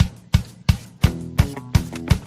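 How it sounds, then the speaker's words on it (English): A song plays as media during an aviation hall of fame broadcast, with a steady rhythmic beat of strong low thumps about every third of a second and tonal harmonic layers above, loud and free of talk. "we're going to have a song come in, and it's going to sound like this"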